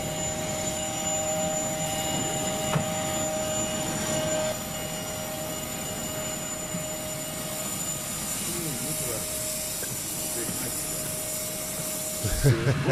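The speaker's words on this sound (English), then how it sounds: "she hit them airplane engines" Airplane jet engines roar in a steady, loud broadband rush with a sustained whine over it, continuing without pause and ending in a few thumps.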